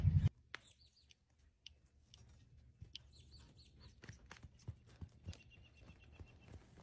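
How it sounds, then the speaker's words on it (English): Horses' hooves clip-clopping on a farm, light irregular thuds and clops at a modest distance, with chickens clucking and birds chirping in the background, fairly quiet overall. "Let's go work the horses and do a little riding."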